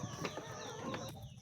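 Layer hens in a poultry house clucking and murmuring continuously, close and fairly quiet, with overlapping calls and no talk.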